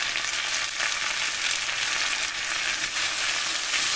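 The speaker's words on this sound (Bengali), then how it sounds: "আমি মশলা কষিয়ে নেব" Potatoes fry in a pan with spice paste of tomato, salt, turmeric and Kashmiri chilli powder for a Bengali fish curry, a constant loud sizzle with faint stirring scrapes and no talk.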